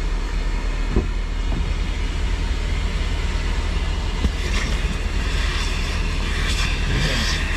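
A coin-operated car wash vacuum runs as a steady, loud broadband roar throughout, with a few brief knocks and bumps.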